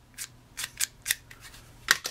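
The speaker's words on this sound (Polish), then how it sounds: "To jest do ściągania izolacji z kabli ekranowanych, na przykład." Scissors-type stripping shears for removing insulation from shielded cable snip several times, with sharp crisp cuts in an irregular rhythm, close and clear in a quiet workshop.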